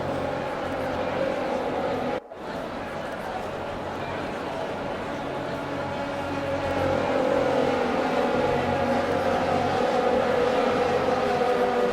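Race cars on a formation lap in a racing game around Austria: a steady engine drone and whir that is briefly cut off, then swells slightly louder, beneath continuous commentary.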